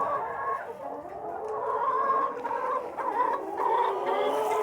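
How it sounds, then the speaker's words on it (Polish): A flock of hens dust-bathing in sand on a ranch keeps up a continuous low clucking and warbling, dense and steady throughout with no talking. "A tutaj kury na spa w kąpielach."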